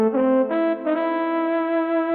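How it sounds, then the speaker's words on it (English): Electronic organ playing a trombone voice, sustained brassy tones with a few note changes in the first second, then one long held note, loud and alone. "Now here is a normal trombone."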